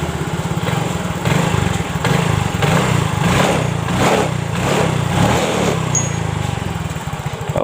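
A Yamaha Mio Soul GT scooter engine idles and is revved nearby, the small single-cylinder motor running loud and steady with uneven surges and a rough, sputtering edge across the whole stretch.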